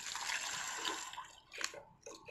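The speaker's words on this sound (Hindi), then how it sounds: "हम इसमें पानी डाल देंगे" Water poured from a glass into a cooking pan of frying raw mango and spices, a short close splashing gush that tapers off with a few faint trickles.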